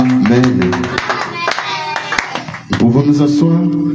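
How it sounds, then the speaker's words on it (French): Church congregation claps in praise during a French-language service, with brief bursts of hand claps mixed with voices and singing-like talk nearby. "Quelqu'un peut applaudir pour la gloire de notre Seigneur?"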